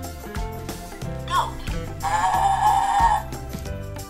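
A goat bleats once in a sustained wavering call over a steady looping music bed with a repeating beat, the animal voice standing out for about a second mid-clip.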